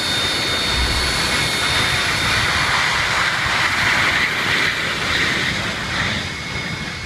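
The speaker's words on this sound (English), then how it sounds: "This Boeing 737 landed so hard its landing gear collapsed, causing the plane to skid down the runway" A Boeing 737 jet engine roars loudly and continuously with a high whine during a hard landing in Indonesia that collapsed its landing gear, steady throughout before easing slightly at the end.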